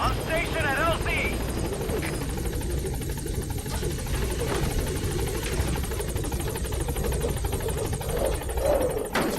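Helicopter in Metal Gear Solid V: The Phantom Pain arriving at a landing zone, a steady loud rotor drone throughout with radio voice chatter over it.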